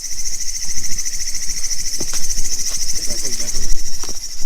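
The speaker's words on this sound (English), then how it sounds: "That's another insect which is creaking here." An unidentified insect, not a cricket, creaks steadily through a night walk among coffee plantations in Coorg, a continuous high-pitched drone close by, with scattered faint footsteps and rustles beneath it.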